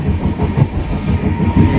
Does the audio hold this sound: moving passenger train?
yes